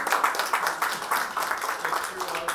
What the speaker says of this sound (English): give us a applause